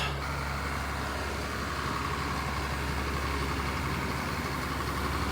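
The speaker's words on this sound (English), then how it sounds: "They leave these trucks running all night." Trucks parked through a frigid Alaskan winter night at -4°F on the Dalton Highway, engines left running: a steady, droning idle with a constant low rumble, close and unchanging throughout, with no voices.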